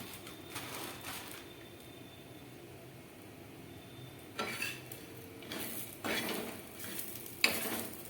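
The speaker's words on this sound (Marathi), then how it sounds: "जोपर्यंत गोल्डन कलर होत नाही तोपर्यंत आपण त्याला बारीक असं मस्त बारीक गॅसवरती भाजून घेणार आहोत" A bakarwadi filling mixture roasts slowly on a low gas flame until golden, giving a faint, steady sizzle broken by several louder scrapes and clinks of stirring in the pan.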